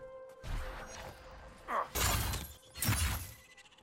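An earth-shattering attack move in Dragon Age Inquisition, with crashing, shattering impacts and whooshing bursts in two or three heavy surges over low game rumble, moderately loud.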